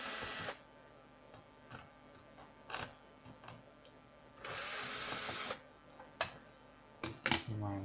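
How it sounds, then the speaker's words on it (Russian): Screws are being removed from a Toshiba Satellite A200-series laptop, with two whirring bursts of a small powered screwdriver between scattered clicks, taps and light plastic knocks, all close and quiet. "Откручиваем."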